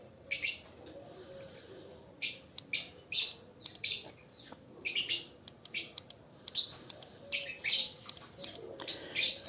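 Birds chirp and squawk outdoors in a busy run of rapid, repeated calls, loud and near, with no talking heard.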